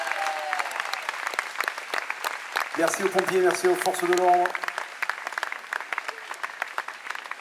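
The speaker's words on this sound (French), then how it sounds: "je voudrais d'ailleurs qu'on applaudisse comme ça d'ores et déjà les pompiers pour les remercier" An outdoor live concert audience applauds the firefighters with steady, dense clapping that continues throughout, while someone speaks over it through a microphone in the middle.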